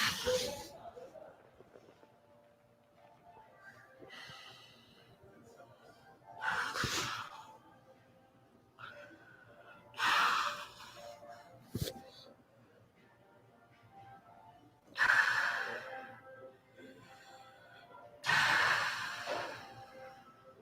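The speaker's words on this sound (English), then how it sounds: "Again, same thing with the breathing here. Breathe." Deep breaths during a spine mobility exercise for inverted guard, several loud breathy inhales and exhales at irregular intervals, close and clear, with quiet stretches in between.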